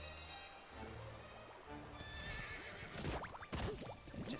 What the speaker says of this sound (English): Alright, horse, come back to me.